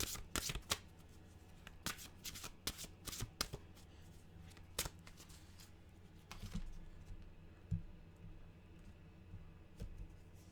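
Mantra cards are shuffled in quick, crisp bursts, a series of riffling snaps separated by short pauses, followed by quieter handling as a card is drawn; nobody speaks.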